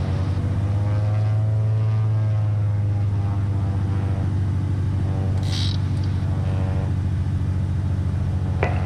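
A 1978 Cessna 310R twin-engine plane on its takeoff roll, the engines holding a steady, loud droning roar with a sustained low hum, heard from inside the aircraft with no talk.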